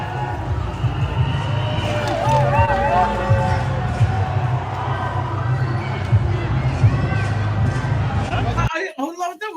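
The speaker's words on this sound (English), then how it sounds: "Look, they're all cheering it." A large crowd cheers and chatters in a continuous dense roar, with a voice talking over it, until the noise drops out near the end.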